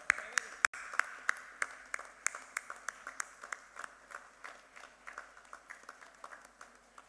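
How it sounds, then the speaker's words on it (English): Scattered applause from an audience at an organic farmers' national convention, sharp separate claps over a soft wash of clapping that thins out and fades, fairly quiet and distant. "warm round of applause."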